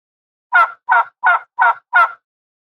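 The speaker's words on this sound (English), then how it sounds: "I say gobble gobble with pride." A farm turkey with shiny feathers and a red comb gobbles five times in quick, evenly spaced bursts, close and loud with nothing else around it.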